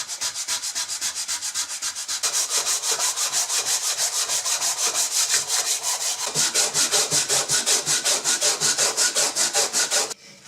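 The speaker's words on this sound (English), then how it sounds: "I'll just try a bit of 180 grit to get some of this off" Old wooden skew rebate plane being sanded by hand with 180 grit sandpaper to remove paint, close rhythmic back-and-forth scratching strokes, quick and even, stopping abruptly at the end.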